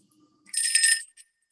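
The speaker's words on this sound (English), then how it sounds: "Ring the bell, Annette." A bell rung once, a bright ringing tone of about half a second with a brief tap after it, in a quiet room with no talk over it.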